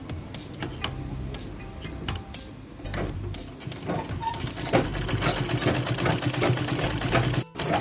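A sewing machine stitching three layers of a blouse's cross belt together, running in close, rapid mechanical bursts that build into a steady, busy whir toward the end, with no talking.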